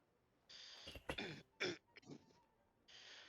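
A person clears their throat several times in short, raspy bursts, close and fairly quiet, with brief pauses between them.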